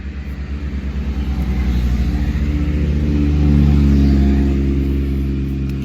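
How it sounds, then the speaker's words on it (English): A loud, close engine drone with pulsing rhythm that swells as a vehicle passes, then eases slightly; no voices. "There's some motorcycles going by."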